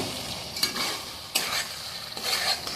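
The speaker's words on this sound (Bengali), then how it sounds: "টাকা আলুটা দিয়ে একটু কষিয়ে নেব।" Half-boiled potatoes being sautéed in spice paste in a pan: a low sizzle broken by three distinct stirring scrapes at roughly even intervals, close and alone.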